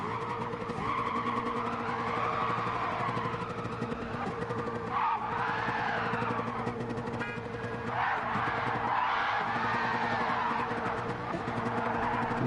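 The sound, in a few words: car spinning out and skidding in Gran Turismo 7 video game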